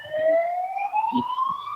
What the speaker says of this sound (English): kind of ironic that an ambulance just drove by